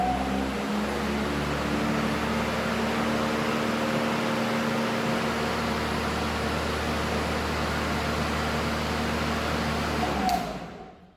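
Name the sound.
Makita DLM532 battery lawn mower starting and running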